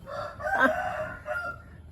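A rooster crows once close by, loud and drawn out, followed by a shorter second call.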